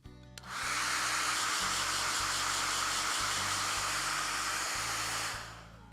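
A hair dryer switches on and blows steadily for several seconds, drying paint on a plant pot holder, a loud even whooshing roar that cuts off at the end.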